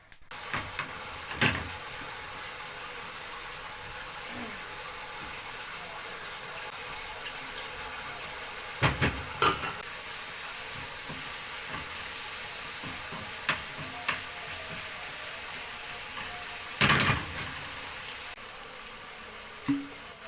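Blanched chard hits garlic, coriander and a spoonful of ghee frying in a pan, giving a steady close hiss and sizzle with occasional sharp clinks and knocks of a utensil against the pan.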